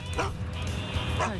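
A puppy on a street gives two short, high yips with a whimpering edge, close and thin over a low background murmur.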